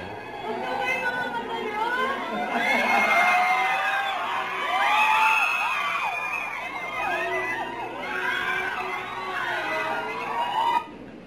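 A cinema audience screams and cheers in excited bursts, high shrill voices rising and falling in overlapping waves over a noisy crowd for several seconds before cutting off.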